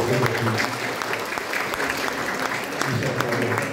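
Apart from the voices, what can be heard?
audience applause welcoming Prof. László Boros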